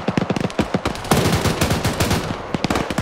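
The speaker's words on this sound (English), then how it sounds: "Got a BTR firing right here." BTR armored vehicle in a military shooter game set in Afghanistan firing its heavy gun, loud rapid bursts of automatic fire with booming echoes, close and continuous, no voices.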